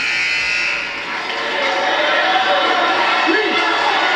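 A loud, sustained buzzer ending a period of a high school wrestling match between Parkland and Easton blares over a noisy, cheering crowd in a large arena, continuing throughout.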